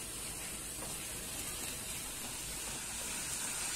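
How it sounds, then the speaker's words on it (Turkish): Minced meat sautés in a pan for içli köfte filling, giving a steady, even sizzle and hiss that runs on without a break at a modest level. "Tekrar şöyle bir kavuruyorum."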